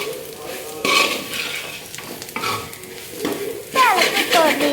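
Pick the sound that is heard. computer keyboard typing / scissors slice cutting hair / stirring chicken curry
stirring chicken curry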